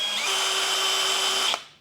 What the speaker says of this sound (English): I'll put a little bolt in there and some washers to fit the drill to it.